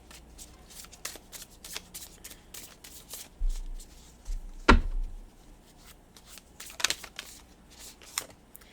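A deck of Rumi oracle cards is shuffled by hand nearby, with soft riffling and papery slaps in quick irregular bursts and one sharper snap midway, alone without talk.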